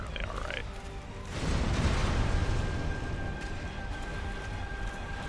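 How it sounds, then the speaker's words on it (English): Explosions in the Dark Souls video game, a loud broadband blast of rumbling noise that swells after a quieter opening with a tonal chime, then a sustained roaring fire-like wash with a steady faint tone over it. "It's just the addition of the explosions in this small area that causes people problems."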